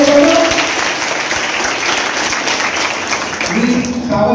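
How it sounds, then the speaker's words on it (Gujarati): Audience applause after a correct answer at a flag-themed school quiz, a steady broadband patter of clapping sustained for several seconds, with a voice briefly heard over it near the end. "વાહ, ખૂબ સરસ, તાળીઓ વડે."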